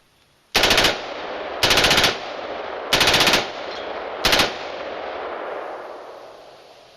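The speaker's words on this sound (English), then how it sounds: "That is an assault weapon, not the first one." An assault weapon fires four loud rapid-fire bursts, each about half a second long, spaced roughly a second apart, with a long echoing decay after the last burst and no speech.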